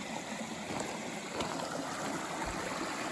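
Thompson Brook, a stream on the Appalachian Trail, rushes steadily at a trail crossing, a constant broadband wash of flowing water close by with no voices.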